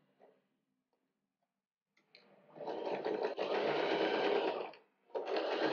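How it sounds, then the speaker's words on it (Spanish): A home sewing machine runs a seam on a long-sleeve fabric bodysuit, whirring steadily and loudly for a few seconds, briefly pausing, then starting again, close up with no talking. "lo escondemos y volvemos a pasar la costura"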